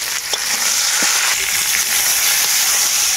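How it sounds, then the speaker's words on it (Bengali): Drumstick and pumpkin pieces seasoned with salt and turmeric lightly frying in oil, a close, loud, steady sizzle with faint scattered crackles and no voices. "সবজিগুলোকে আমি কিছুক্ষণের জন্য হালকা করে ভেজে নেব।"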